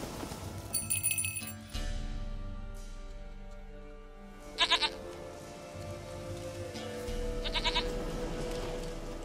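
A goat in The Witcher 3 bleats in three loud, wavering bursts spaced a few seconds apart over steady rain-like ambience and a low hum.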